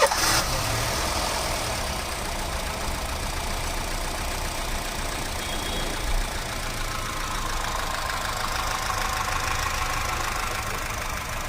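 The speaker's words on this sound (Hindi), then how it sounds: "मैं आपको स्टार्ट करके दिखाता हूँ इसका साउंड किस तरीके से है" A 2011 Honda City petrol/CNG car engine idles steadily after starting, a close, even mechanical hum that holds without gaps and has no voices over it.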